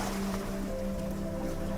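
Sea waves washing near Dalkey Island and its harbour form a steady, even wash of surf, with a faint low hum and light wind noise and no talking.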